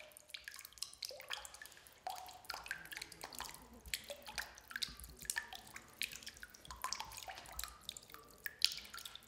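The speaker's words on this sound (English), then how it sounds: "This little bit dripping out of the pipe is all they have left for drinking water." A thin trickle of water drips from a pipe in a drought-stricken Middle Eastern area, with irregular, close, faint drops and small splashes sounding alone against quiet surroundings.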